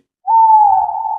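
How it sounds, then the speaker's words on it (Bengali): An owl gives a single long, steady hoot that sounds clear and close, holding a smooth pitch for about a second against near silence. "আর শুনলাম প্যাঁচার ডাক।"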